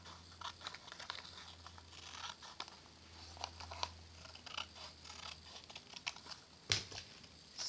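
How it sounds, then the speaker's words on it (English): Scissors cutting paper along a drawn line for a paper pop-up photo album booklet, heard as soft, quiet snipping and rustling in an irregular rhythm, with one sharper snip near the end. "I'll take my pair of scissors and I'm going to cut"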